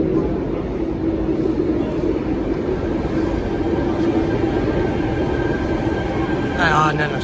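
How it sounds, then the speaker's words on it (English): A Sydney Tangara suburban electric train on a T4 City Circle service rumbles steadily past at Circular Quay, a loud continuous roar of wheels and motors close by, with a brief squeal near the end. "Here's the tangara for the T4 going on the City Circle,"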